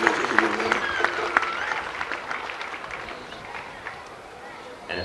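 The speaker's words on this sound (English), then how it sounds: "And I want you to give them a round of applause." A crowd applauds at a speech by a traditional king, a steady wash of many hands clapping that carries on throughout with some crowd noise mixed in.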